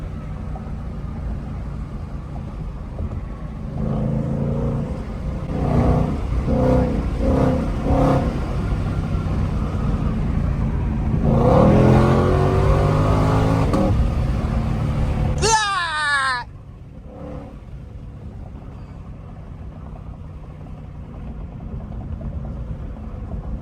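A Ford Shelby GT500 pulls hard on a Chicago street, its engine note rising loudly in pitch through a sweeping rev, then cutting off abruptly before settling to a lower drone, heard from inside the car.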